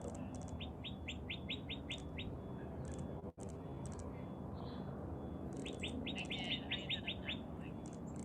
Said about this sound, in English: So that is the northern cardinal.